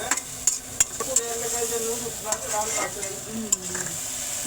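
Noodles being stirred in a frying pan for desi-style noodles, with a steady sizzle and intermittent utensil clinks and scrapes against the pan.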